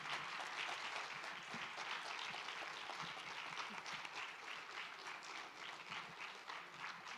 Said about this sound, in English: why don't we give a round of applause to Hosna and Robin